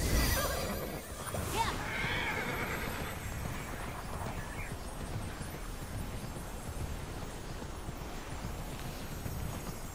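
A horse whinnies in the video game Immortals Fenyx Rising, a loud neigh near the start with clip-clopping hooves and wind-like game ambience running underneath for the rest.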